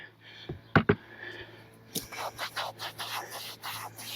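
Scrub brush with Dawn soap worked against the side of a camper, with a couple of sharp knocks and then rhythmic close rubbing and scrubbing strokes.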